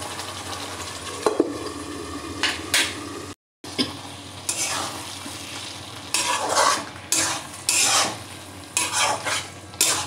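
Potato pieces frying in oil in a pan for a fish curry, stirred with a utensil in scraping bursts over a steady close sizzle, with brief pauses between strokes and no voices.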